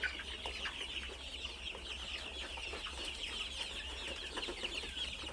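Broiler chickens clucking steadily inside a poultry farm shed, Brown Cock broiler flock about 52 days old, a dense continuous murmur of many birds with scattered brief calls and no talk.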